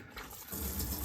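Water runs from a faucet in an outdoor bathroom with a concrete-and-steel top, a steady close splash that grows fuller and louder about halfway through, with no talk.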